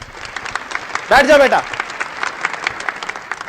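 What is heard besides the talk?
classroom children clapping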